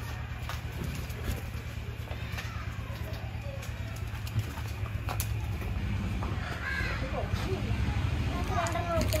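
A horse calls out with a few drawn, rising cries near the end, over a steady low hum and a busy outdoor background with voices murmuring.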